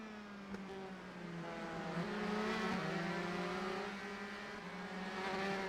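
Video-game race cars circle the Italian Grand Prix track in a continuous, loud engine whine that shifts pitch through gear changes, with cars rising and easing in intensity throughout.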